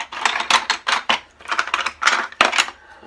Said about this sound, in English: Let me just put some of these blocks in.